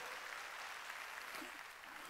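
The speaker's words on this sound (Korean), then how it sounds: "박수" A church congregation at a Sunday worship service breaks into steady applause, a dense continuous patter of many hands filling the room, with faint voices mixed underneath.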